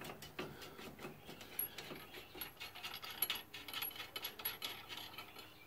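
A ratchet tightening bolts on a Rough Country leveling kit for a Chevrolet Silverado, giving faint, steady mechanical clicking with small metallic ticks and clunks in a quiet garage-like space.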